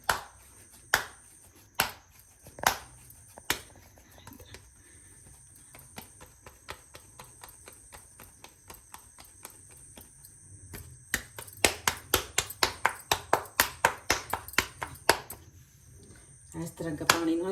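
Hands slap and press maize dough into makki roti, a series of crisp pats, sparse at first, then quickening into a dense rhythmic run, close and clear with little else around.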